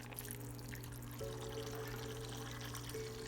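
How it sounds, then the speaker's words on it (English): Water pours steadily into a pot of white beans cooking for frijoles blancos de olla, a continuous close trickle and splash over a low steady hum, with no talking. "So we're gonna go ahead and add more water."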